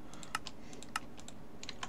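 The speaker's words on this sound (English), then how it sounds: "My apologies, by the way, for the mouse clicks. So many mouse clicks having to be done." Rapid computer mouse clicks while playing the modded Minecraft pack Agrarian Skies, a close, crisp run of irregular ticks with no talk over them.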